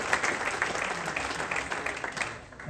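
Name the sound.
round of applause at statue unveiling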